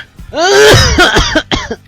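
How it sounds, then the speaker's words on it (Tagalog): A person coughs and clears their throat up close, a loud raspy burst followed by a couple of shorter hacks. "Umubo ka. Ubo pa."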